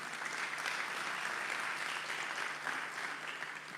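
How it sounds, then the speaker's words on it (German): Audience applause in a large festival tent: dense, continuous clapping from a crowd, heard at a distance and fairly faint, steady throughout with no voices over it. "En een applaus."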